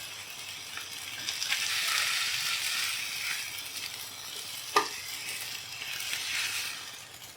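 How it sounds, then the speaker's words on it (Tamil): A sandwich grills on a hot pan with a soft continuous sizzle that swells and fades, broken by one sharp clack midway, with no voices. "இப்போ ரெண்டு சைடுமே 2 to 3 minutes வந்து கிரில் பண்ணணும்"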